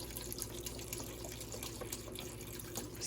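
Swanson chicken broth pours steadily from the carton into a cooking pot for cabbage soup, a continuous close splashing stream with no talking.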